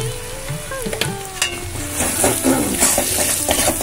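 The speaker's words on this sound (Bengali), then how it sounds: "মশলাটা ভালো করে কষিয়ে নিচ্ছি" Masala spices fry and sizzle loudly in a pan for ghugni, with steady crackling, a few stirring scrapes and clinks of a utensil against the pan, and no one talking.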